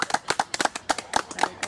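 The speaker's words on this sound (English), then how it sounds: "So we just start with a little clapping to start" Hands clap in a laughter yoga warm-up, sharp full-palm claps landing in a quick steady rhythm, close and fairly loud, with a few slightly uneven beats and no talking over them.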